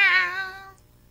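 A cartoon cat gives a single short meow, clear and fairly loud at first, then fading out within under a second into quiet.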